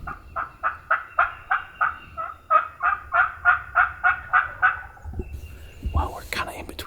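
Wild eastern turkeys on a Kentucky ridge top, a long run of about sixteen rapid, evenly spaced gobbling and honking calls in steady rhythm, moderately close and loud, followed by rustling and a few scattered squawks.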